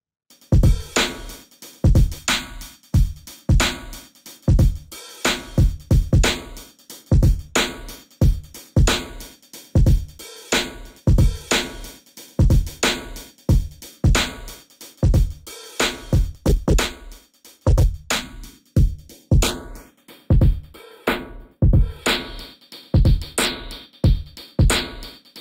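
A drum bus loop plays continuously while a sweeping notch filter from the Nonlinear Filter plugin carves a moving gap through its tone, the timbre shifting and swirling over the steady beat.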